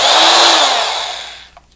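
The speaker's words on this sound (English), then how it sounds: "Almost an identical power drill with the cord." A corded electric power drill with a commutator motor spins at high speed, a loud bright whine that winds down and fades out within two seconds, heard alone.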